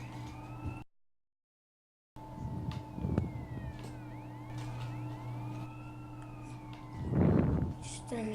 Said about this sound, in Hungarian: de hangos ez a sziréna.